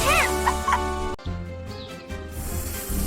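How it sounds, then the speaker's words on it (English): Hen clucking in a children's animal-guessing cartoon, a few short clucks and chirps over bright music, quieter after a brief pause, with no voices. "This is a hen."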